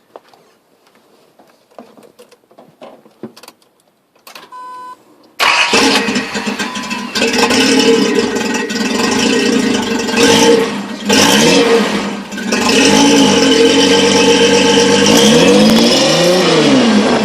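A Datsun 280Z with a Flowmaster Super 44 dual exhaust cranks briefly after some quiet handling noises, then fires up loud and close into a rough idle with several throaty revs that rise and fall.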